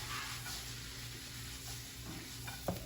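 Sausage and peppers sizzle steadily in a pan as they are stirred, a close, constant hiss with a soft scrape near the end.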